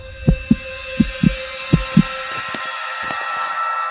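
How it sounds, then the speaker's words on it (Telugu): Heartbeat thumps in paired beats, loud and close, repeat about six times in the first two seconds, then fade under a steady hum in a film scene. "అది నా గుండె చప్పుడురా"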